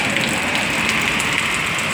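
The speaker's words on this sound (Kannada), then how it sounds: "ನೋಡಿ ಯಾವ ಥರ ಮಳೆ ಹುಯ್ತಾ ಇದೆ." Heavy rain pours steadily in Gundlupet, a dense, even hiss of downpour close by with no break and no voices.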